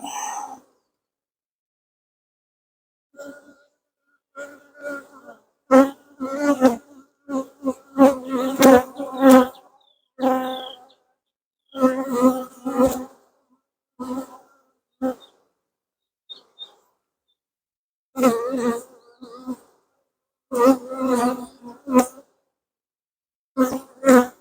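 Honey bees buzz in bursts from an open hive box during an inspection, close and fairly loud, rising and falling in intermittent swells with short quiet gaps between them.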